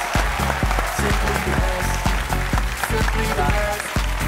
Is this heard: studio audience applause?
yes